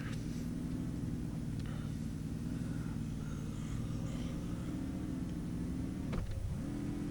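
Car engine in the video game Invasion 2037, a steady low engine drone idling and running throughout, with a brief dip near the end before resuming.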